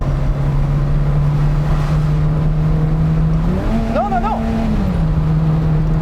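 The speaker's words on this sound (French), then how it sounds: "ça s'accélère tout seul" A Peugeot 205 GTI 1.9 engine holds a steady idle-like drone, then its revs climb on their own for a moment before settling back to the earlier pitch, steady and close with no driver input.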